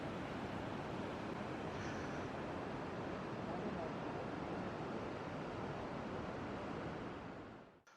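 The Urubamba River along the Inca Trail rushes in a steady, dense roar of flowing water, loud and unbroken for several seconds before cutting off abruptly.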